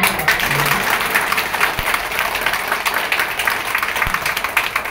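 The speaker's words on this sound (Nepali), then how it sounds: "अशोक सरलाई पनि धेरै ताली बजाइदिनु" An audience clapping for a teacher, steady dense applause of many hands, moderately loud and sustained for several seconds.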